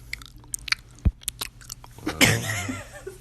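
Someone chewing blueberries close to the mic: wet, irregular bites and squishy mastication clicks, getting busier and louder toward the end, with no clear talk.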